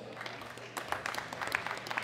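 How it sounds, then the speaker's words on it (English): Audience at the World Classic Powerlifting Championships 2018 clapping in a modest, scattered round of applause that picks up partway through, with faint voices underneath. "Give him a round of applause."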